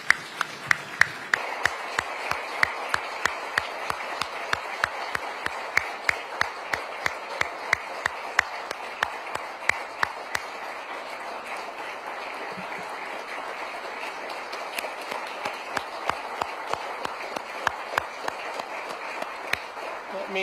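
An audience at a policy speech event applauds the President of Korea, Lee Jae-myung, with steady sustained clapping throughout, heard from within a large room.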